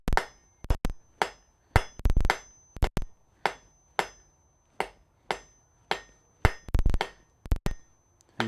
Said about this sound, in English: Come back over here, flat side of the hammer.